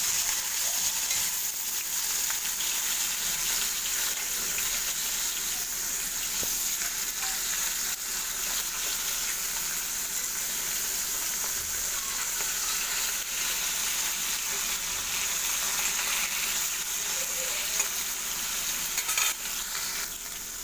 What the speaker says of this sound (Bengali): মাছটা আমার এটা ভাজা হয়ে আসছে